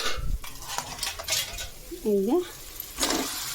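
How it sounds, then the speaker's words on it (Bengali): Goat meat is tipped into a sizzling paste of cumin, garlic, ginger, chopped tomato, whole garam masala and dried chillies in oil, giving short clattering, scraping bursts over a soft fry, with a brief spoken remark. "খাসির মশলা কষানো হয়ে গেছে, এবার মাংসটাকে আমি এর মধ্যে ঢেলে দেবো"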